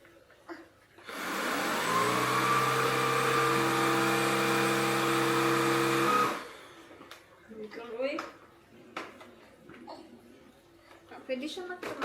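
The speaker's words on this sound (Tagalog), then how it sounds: "let's try to vacuum." A newly bought vacuum cleaner switches on with a loud steady whine and motor hum for about five seconds, then cuts off, followed by household clatter and talk.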